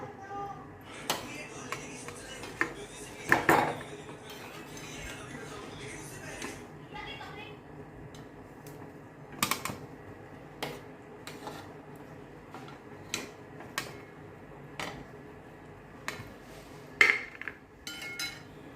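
Cooked potatoes scraped from a pan onto a plate in a kitchen, with scattered metallic clinks and scrapes of utensil against pan and plate, a few sharper knocks standing out over a steady low background.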